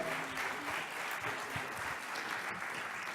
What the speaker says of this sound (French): On peut l'applaudir, Olivier Bouba-Olga